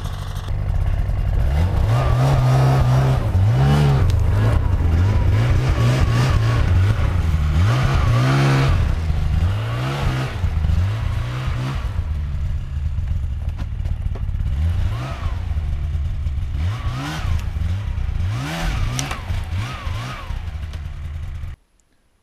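A snowmobile engine revs and labours while cutting a new trail through the woods, its pitch rising and falling repeatedly, loud and close, easing slightly toward the end before cutting off.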